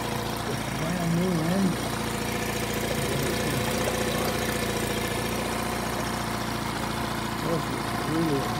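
A nearly new Honda 7.5 hp four-stroke outboard engine idles steadily with a low, even drone throughout, while someone talks over it at moderate distance.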